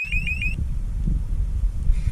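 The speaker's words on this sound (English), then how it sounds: "And when it does turn on, we have that loud alarm." Loud electronic bilge pump high-water alarm aboard a Valiant 40 sailboat, a rapid repeating rising chirp, then cutting out, leaving low rumbling machinery noise.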